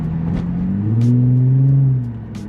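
A loud, deep Infiniti G35 exhaust with a muffler delete drones and revs up briefly, with a few faint pops scattered through, close by and without talk.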